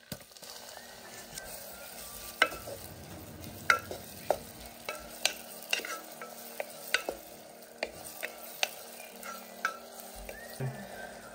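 Diced garlic, celery and onion sautéing in a pan, with a soft sizzle under a series of distinct utensil taps and scrapes at an irregular pace, close and fairly quiet, no talking.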